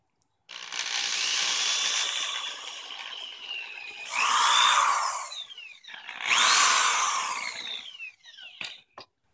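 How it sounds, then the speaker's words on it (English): A power drill whines as it bores into wood in two long bursts, its pitch sliding under load, followed by a few short clicks. "we're going to drill one hole"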